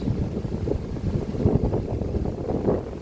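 A Flashfish P66 power station runs an electric fan at strong speed, drawing about 88 watts: a steady, close whooshing rush of moving air with fluttering low-frequency buffeting, continuous and fairly loud throughout, no talk.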